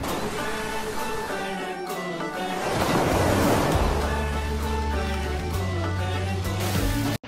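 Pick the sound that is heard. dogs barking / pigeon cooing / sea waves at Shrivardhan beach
sea waves at Shrivardhan beach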